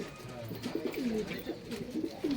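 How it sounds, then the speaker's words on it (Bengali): Pigeons coo softly in a series of low, throaty warbles over quiet background noise. "অনেক কবুতর রয়েছে"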